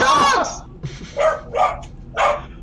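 A person imitates a dog barking during a tabletop roleplaying game session, a series of three or four loud, close yapping barks following a quick vocal exclamation.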